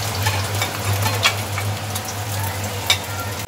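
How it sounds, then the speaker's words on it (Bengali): Chicken masala fries in a pan with a steady, close sizzle and occasional scrapes of stirring over a low kitchen hum, and no one speaks. "আর ওইদিকে ওই যে ভাজা হচ্ছে, চিকেনের মশলা করছে"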